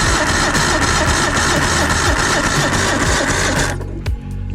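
The starter on an Evinrude 150hp outboard motor cranks the engine in a fast, loud, rhythmic chugging whir, then cuts off near the end, leaving a quieter tail.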